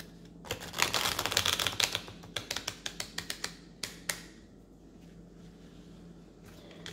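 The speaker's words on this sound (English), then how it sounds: "I'm going to shuffle and to mix the cards" Cards being riffled and shuffled at close range: a dense flurry of crisp flicks, then a few separate snaps and taps before things go quiet.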